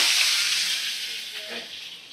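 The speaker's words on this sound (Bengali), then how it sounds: "দেখো তেলটা তো গরম হয়ে আছে, তো দেখো আমি গোটা জিরে দিয়ে দেব ফোড়নে, আর কুচানো পেঁয়াজ দিয়ে দিলাম" Whole cumin and chopped onion hit hot oil with a loud, bright hiss that fades gradually over a couple of seconds, close to the pan, with no talking.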